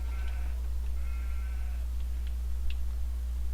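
Sheep bleat in a farming video game, a few short faint calls over a constant low hum, with no talking.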